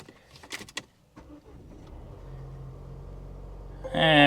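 A 2020 car at a dealer auction starts with a push of the start-stop button, giving a brief whirring crank and then a steady low engine idle after some light clicks and handling noises, ending in a louder rising whir.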